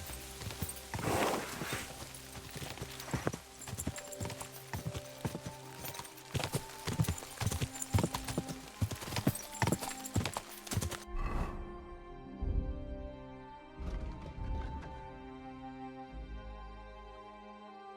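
Rapid hoofbeats clatter in a steady galloping rhythm with a horse's whinny in the video game Kingdom Come: Deliverance II, then the pounding drops away into softer, sparser thuds.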